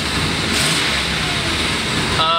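A doorless limo's engine runs steadily on the road, a loud, even mid-pitched drone with continuous road and wind roar throughout, with no gaps.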